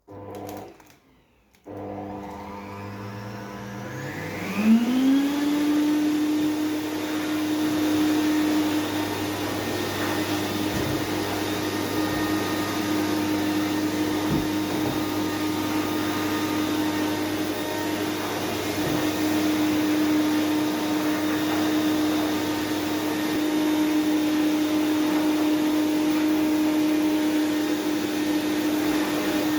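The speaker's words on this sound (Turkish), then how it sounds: "Şimdi süpürgeme basıyorum." A household vacuum cleaner switches on during home cleaning, its motor spinning up in pitch over a few seconds, then running loud and steady with a constant whine and roar. A brief murmur comes before it starts.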